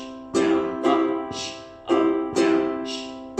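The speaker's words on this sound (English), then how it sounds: "And when you strum it, it sounds like this." Ukulele strumming pattern number 8 rings out close and clear, alone: full chord strokes alternate with percussive muted chucks in a repeating down-chuck, down-up-down-chuck rhythm at a moderate pace.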